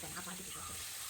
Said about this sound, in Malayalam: അതിനുശേഷം പാൻ അടുപ്പത്ത് വെച്ച് അതിലേക്ക് എണ്ണ ഒഴിച്ചതിന് ശേഷം ഓരോ മീൻ കഷ്ണമായിട്ടിട്ട് നമുക്കത് പൊള്ളിച്ചെടുക്കണം